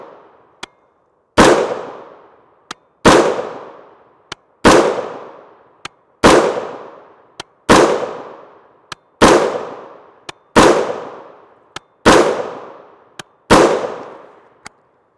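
Ten loud rifle shots firing 5.56x45mm M855 / SS109 62gr FMJ ammunition, each a sharp crack with a short decaying echo, spaced evenly about every one and a half seconds outdoors.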